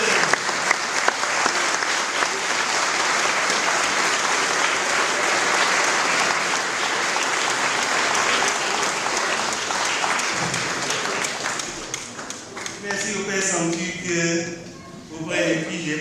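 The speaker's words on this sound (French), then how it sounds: "Je vous invite à l'applaudir." A church congregation at Sunday Mass in Arcangues claps loudly and steadily for the parish priest, the dense applause filling the room before thinning out near the end as a voice starts to speak.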